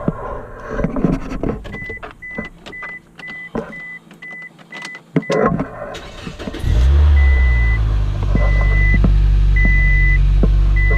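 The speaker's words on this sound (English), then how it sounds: "see if the car starts" Scion car being started with a newly made key: clicks and a repeating chime, then the engine cranks and catches around six seconds in, settling into a loud, steady idle close by while the chime keeps beeping.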